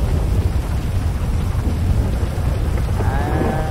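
Rain and a thunderstorm in the video game GTA 5: a steady loud rain hiss with deep rumbling thunder rolling underneath throughout, plus a faint tonal whine near the end, no speech.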